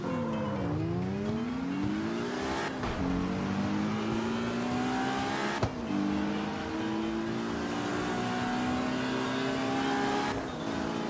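Simulated race car in a racing video game, its engine revving up through rising gear sweeps with sharp shift breaks, loud and steady throughout with no talking.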